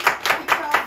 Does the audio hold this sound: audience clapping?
yes